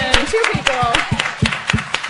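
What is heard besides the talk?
audience applauding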